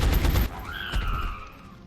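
Gunfire from a long-range shot in the video game XCOM Long War: a loud, dense burst of shots at the start, followed by a brief whooshing, ringing tail that fades out.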